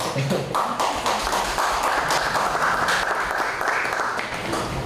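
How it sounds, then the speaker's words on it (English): Audience applause at a poetry reading and fundraiser, a continuous wash of many hands clapping that holds at a steady, fairly loud level for the whole stretch with no break. "I will ask you to hold your applause until I'm done with all of the fellows"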